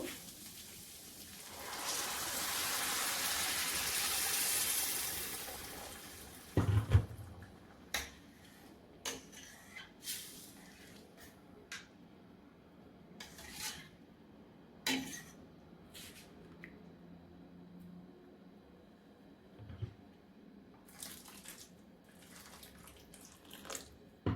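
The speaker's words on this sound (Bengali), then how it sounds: "গরম পানি দিয়ে দেখো" Hot water poured into a pan of frying basmati rice, starting with a loud, steady rushing hiss for several seconds, then settling into scattered bubbling pops and clinks, with no voices.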